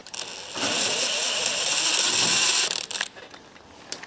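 A ratchet winds down the main cap bolts on a Range Rover SVR engine, a continuous bright whirring clatter close by for a couple of seconds, then a few brief metallic clicks.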